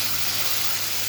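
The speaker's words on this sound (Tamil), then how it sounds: "இதை எடுத்து இப்போ இதில் ஊற்றுறேன் பாருங்கள்." A watery tamarind and tomato spice mixture poured into a pot, giving a steady, continuous close gush of liquid with no talk.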